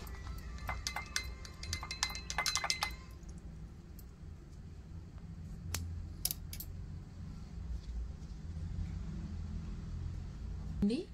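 A spoon clinks rapidly against a glass while supplement powder is stirred into water, a close burst of bright taps that fades to a few scattered clinks over a low hum.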